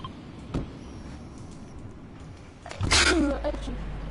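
A single sharp sneeze bursts out loud and close during a Fortnite live stream, followed by a moment of shuffling and a brief voice in the background.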